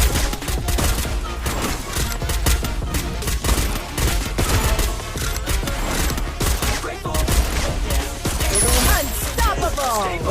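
Gunfire in a shooter video game with a sniper player, heard as dense, continuous bursts of shots and impacts for the whole stretch, loud and close, with layered game effects.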